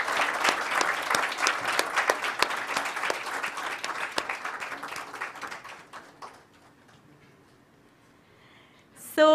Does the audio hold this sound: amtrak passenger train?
no